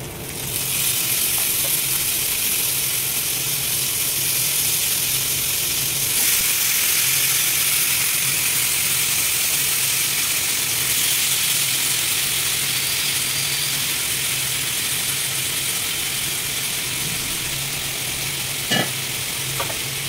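Steady hiss and sizzle of washed chicken frying in a hot pan, close and constant with faint stirring clinks, no talking.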